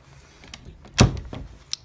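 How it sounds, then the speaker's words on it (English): An indoor door shuts with a single solid thunk near the middle, preceded by faint handling noise and a small click just after. "let me close the door"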